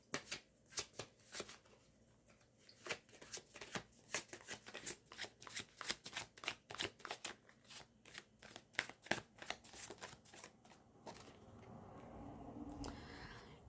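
Tarot cards are shuffled by hand in a steady run of quick, crisp riffles and slaps, close and quiet, continuing for several seconds before fading into soft rustling.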